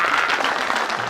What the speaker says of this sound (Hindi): जोर से ताली बजाओ। अरे बजाओ ताली।